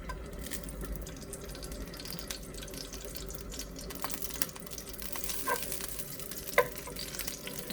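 Ghee added to cooked meat in a pot, giving a steady, close frying sizzle with watery bubbling and a few small metallic clinks, with no speech.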